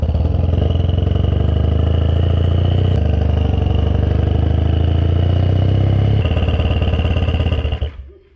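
A motorcycle engine runs loud and close at a steady rattling idle with a dense mechanical clatter, then cuts off and dies away near the end.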